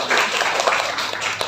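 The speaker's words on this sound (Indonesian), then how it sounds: "Tepuk tangan untuk semuanya." Applause from a class during a teaching practice session, a short burst of steady clapping heard on its own without talk.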